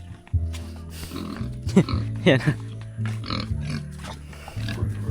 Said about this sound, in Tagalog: papakain natin yung mga baboy dahil walang nagpakain kanina